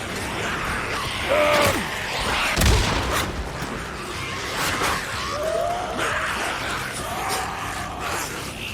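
A frag grenade explodes in the Days Gone video game: one heavy, muffled boom stands out midway through ongoing rumbling game ambience and scattered clatter.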